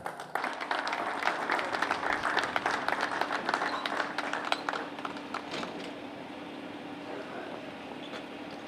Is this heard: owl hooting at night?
no